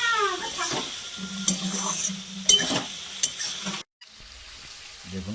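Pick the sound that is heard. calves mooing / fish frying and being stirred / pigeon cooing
fish frying and being stirred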